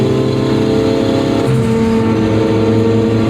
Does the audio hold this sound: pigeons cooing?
no